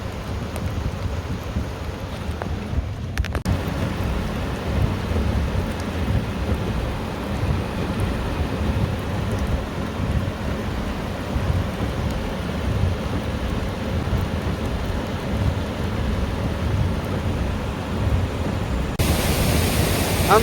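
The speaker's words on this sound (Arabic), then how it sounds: "أمطار اليوم السبت" Steady rain pours down in Tanomah, Saudi Arabia, a broad continuous wash of falling water with low rumbling thunder mixed in, heavy and even throughout with no voices.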